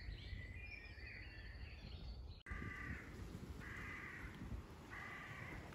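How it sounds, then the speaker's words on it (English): Crows caw repeatedly outdoors in three or four spaced bursts, fairly clear over a steady background hiss. "Hear the birds?"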